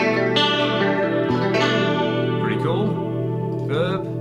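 Sustained guitar chords washed in a 1210-type echo effect and chorus-like effects, dense and loud, with repeating trails smearing each new note.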